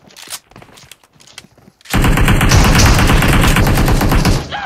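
Automatic rifle fire in the mobile battle-royale game PUBG Mobile: after a couple of seconds of quieter scuffling, a loud, dense sustained burst of rapid gunshots runs almost to the end.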